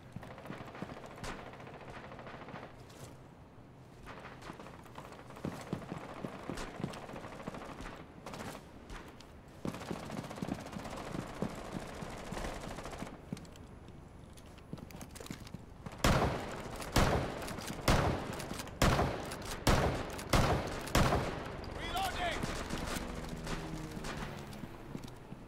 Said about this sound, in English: I love this little pump shotgun.